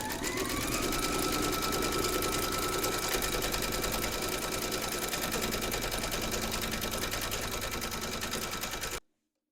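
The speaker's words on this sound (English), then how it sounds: "Pop your hoop into your machine and stitch round number 2 to secure them." An embroidery machine stitches round a felt treat bag in its hoop, a steady rapid needle chatter running continuously at close range, then stopping abruptly near the end.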